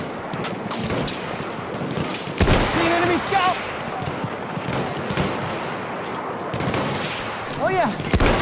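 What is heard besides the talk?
machine gun fire in the video game Battlefield 1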